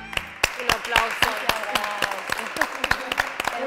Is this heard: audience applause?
yes